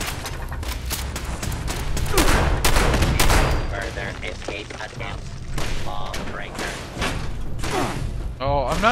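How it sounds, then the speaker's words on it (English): An automatic assault rifle fires in the game Fallout 76, with rapid, loud bursts and heavy thuds packed densely across the clip and a voice heard amid the shooting. "Automatic assault rifle."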